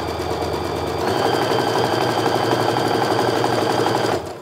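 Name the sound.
sewing machine sewing quarter-inch seam on quilt pieces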